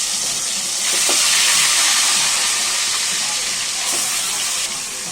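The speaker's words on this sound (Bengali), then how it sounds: "তারপরে সেই গরম তেলে আমরা মাংসগুলো ভেজে নিব।" Chicken pieces frying in hot oil for a Bengali chicken and potato curry, a strong steady sizzling hiss that swells and settles, with faint clinks.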